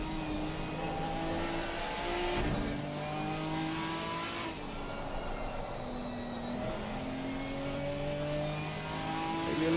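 A GT4 race car accelerates around a track, its engine climbing steadily through the gears with pitch rising and dropping at each shift, heard at moderate distance with no talk.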